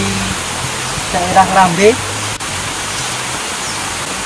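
A steady rush of falling water from the Pengantin waterfall in Ngawi fills the background while someone speaks briefly over it.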